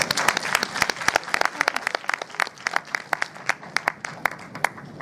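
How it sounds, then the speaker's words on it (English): A school arts festival audience in Trinidad and Tobago breaking into applause, dense rapid clapping from many hands that swells and thins over a few seconds. "Give yourselves a round of applause."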